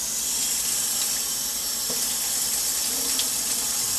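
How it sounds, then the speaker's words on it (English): Tap water runs steadily into a sink as a cast iron skillet is rinsed, a constant moderate hiss of flowing water with faint clinks and splashes, and no talking. "I'll rinse it off in the sink over here."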